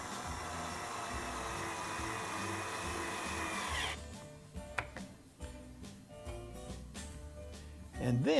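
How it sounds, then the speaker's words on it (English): A power drill whines loudly as it drives screws into wood, a steady high whirring for several seconds, then stops, followed by short knocks and handling sounds nearby. "let's attach the other side with some screws"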